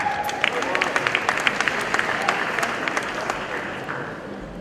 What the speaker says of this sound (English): let's give another round of applause to these 48 beautiful young women